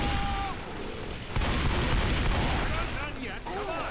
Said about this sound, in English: Can anybody help me shoot this thing?